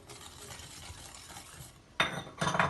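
A spoon stirs and scrapes inside a pot of flour, wheat starch and egg yolk pudding mixture, soft at first, then two louder bursts of scraping near the end.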